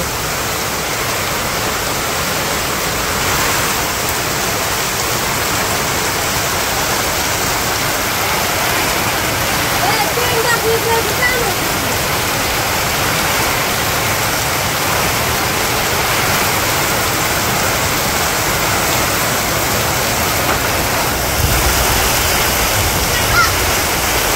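Heavy rain pours down steadily during a village storm, a dense, loud wash of noise that stays constant throughout with no clear breaks.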